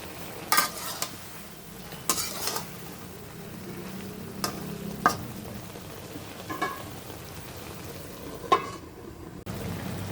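Tomato cooks in a curry pan with a low background sizzle, broken by several sharp stirring scrapes and knocks of a utensil against the pan, close by.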